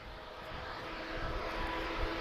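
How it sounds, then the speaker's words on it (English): Airliner taking off on the long runway at Lisbon Airport, a broad steady engine roar heard from a distance that gradually builds over two seconds. "the smaller aircraft will take off the intersection here, the larger ones will use the entire runway"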